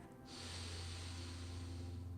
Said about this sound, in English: see if you can sniff in a little more air